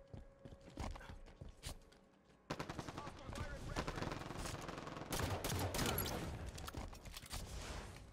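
Rapid bursts of gunfire in a Halo 5 two-versus-two multiplayer match, starting sparse then turning dense and continuous from midway, loud and near, with a voice occasionally speaking over the shooting.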